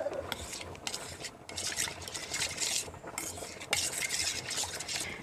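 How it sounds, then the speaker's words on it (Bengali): Milk is stirred into hot water in a pot while making semai payesh, a continuous swishing and scraping that rises and falls over several seconds, with light clinks and no speech. "গরম জলের সঙ্গে দুধটাকে মিশিয়ে নিচ্ছি।"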